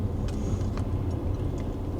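A refuse lorry drives ahead on a road near Ipswich, its low engine rumble steady and moderately close, heard from inside a following car with a few faint higher clanks over the drone.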